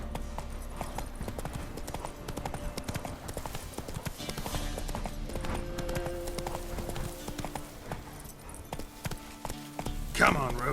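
Roach, Geralt's horse in The Witcher 3: Wild Hunt, gallops with a steady, rapid clip-clop of hooves, close and continuous beneath game music and a voice calling out, with a short whinny near the end.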